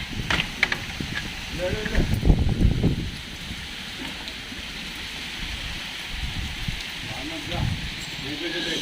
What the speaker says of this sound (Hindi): फाइनली इतनी गर्मी झेलने के बाद अब हो गई है बारिश